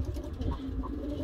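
Pigeons coo inside a coop, soft low throaty calls repeating a couple of times over a murmuring background.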